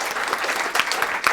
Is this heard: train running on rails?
no